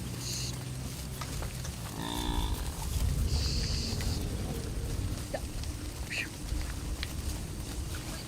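Cattle herded by Fulani herdsmen low in a moo, with a rising call near two seconds over steady outdoor ambience; other animal and bird calls are scattered through the rest.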